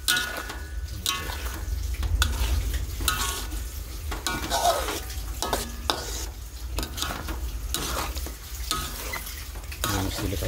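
Sambal fries and bubbles in a hot pan while it is stirred. A steady close sizzle runs throughout, with scraping and clinks from the utensil against the pan.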